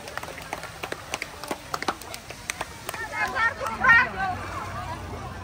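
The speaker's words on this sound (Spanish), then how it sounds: "un aplauso." Students at a sports centre pool give scattered, uneven applause for a few seconds, which fades into a murmur of voices and chatter.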